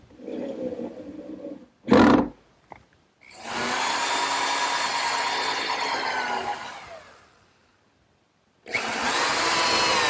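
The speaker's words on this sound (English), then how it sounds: "Now to attach the backsplash to the counter area, I'm putting 4 screws in through the back." A power drill drives screws through the back of a wooden backsplash into a gardener's workbench counter: a short burst, then a long steady whine, silence, and another run starting at the end.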